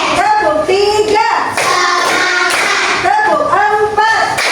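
A classroom of children claps together in a counted rhythm, loud and close, while a teacher's voice leads over the claps.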